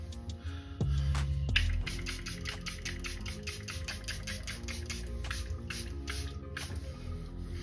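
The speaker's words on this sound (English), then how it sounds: "I'm just going to spray my face with some of the Charlotte Tilbury setting airbrush flawless setting spray." Charlotte Tilbury Airbrush Flawless setting spray mists onto a face in a long, steady hiss with rapid pulsing bursts, close and fairly loud against a low background hum.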